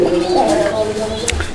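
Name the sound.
pigeons cooing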